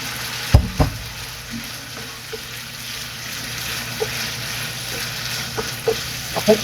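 Beef with chili and Baguio beans frying in a pan, a steady low sizzle under scattered spoon clinks and stirring scrapes, including a louder knock early on.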